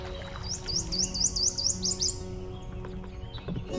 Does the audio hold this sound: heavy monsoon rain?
no